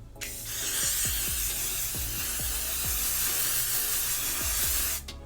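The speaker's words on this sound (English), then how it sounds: "I go in with my L'Oreal Infallible 3-Second Setting Mist" A continuous fine mist of L'Oreal Infallible 3-Second Setting Mist hisses for about five seconds, close and steady, with faint rhythmic clicks underneath and no voices.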